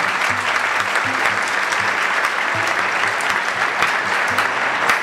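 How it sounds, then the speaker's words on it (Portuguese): Sustained audience applause fills an awards ceremony hall at a games festival, a dense, loud, even wash of clapping hands lasting the whole stretch with no break. "Uma salva de palmas para eles também."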